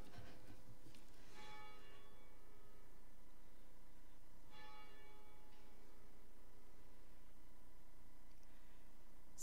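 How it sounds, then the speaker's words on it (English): Church bells ring before a Sunday morning worship service, with a few distinct strikes that ring out and decay over a quiet room, faint and somewhat distant, with no talking. "let me wait for the bells"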